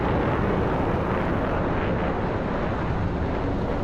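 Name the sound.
jet aircraft flying past in DCS flight simulator video game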